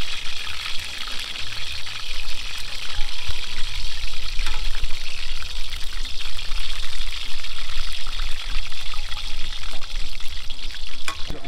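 Steady, dense sizzling of small fish frying in hot oil for Thai red curry, a continuous crackle with a few faint clinks and low rumbles underneath.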